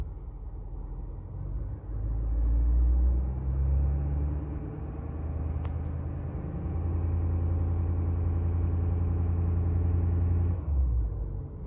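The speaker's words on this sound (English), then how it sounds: "As you can hear the diesel, the turbo spool up." Inside the cab of a Ford F250, the diesel engine gives a steady, close, low rumble that swells as revs and turbo boost build, then settles back near the end.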